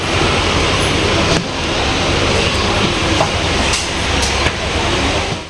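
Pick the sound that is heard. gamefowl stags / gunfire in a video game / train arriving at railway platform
train arriving at railway platform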